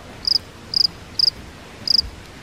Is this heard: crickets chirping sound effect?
yes